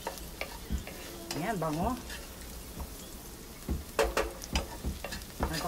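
Alugbati (Malabar spinach) sautés in a pan with soft sizzling and scattered stirring clicks, while a person talks quietly now and then and a bird chirps briefly.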